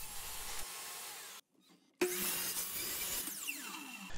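Steady rasping hand-saw strokes cut through wood stock, close and loud, broken by a brief pause before the cutting resumes with a bright whining edge.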